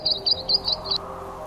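A fallen baby sparrow in a storm-shaken forest gives five quick, thin, high chirps in an even rhythm, close and clear over a low hum, then falls silent.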